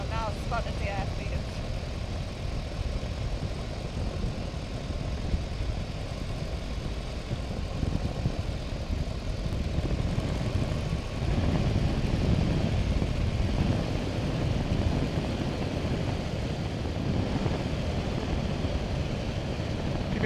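De Havilland Tiger Moth biplane engine droning steadily on final approach to land, a continuous low rumble with wind noise through the whole stretch, while people talk over the intercom.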